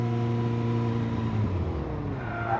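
A sidecar motorcycle engine drones steadily at speed, then drops in pitch as the throttle is cut abruptly, heard up close and loud with wind noise.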